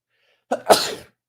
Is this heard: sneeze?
yes